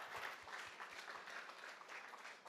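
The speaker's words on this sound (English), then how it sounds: "Once again, a round of applause." Audience applause at a startup pitch competition, a steady wash of many hands clapping throughout at moderate volume, with no talk over it.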